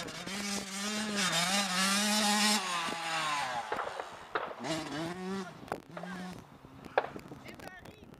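A motorcycle revs and rides past outdoors, its engine note climbing and falling in repeated surges, loud up close and then dropping away, with voices talking over parts of it.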